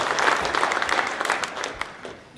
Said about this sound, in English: So a round of applause for them to show up and do this thing.